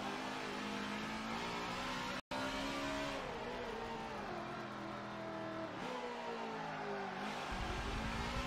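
A NASCAR stock car engine in Forza Motorsport 7 drones loudly and continuously, its pitch rising and falling through gear changes, with one brief dropout partway through.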